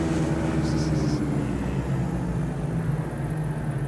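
Airliner touching down on a runway in Microsoft Flight Simulator 2020, heard as a steady, loud engine and rolling rumble with low droning tones that continue through the whole stretch, without a distinct impact.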